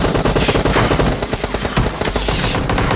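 Rapid automatic gunfire in the mobile battle-royale game Free Fire, loud dense bursts of shots rattling continuously throughout.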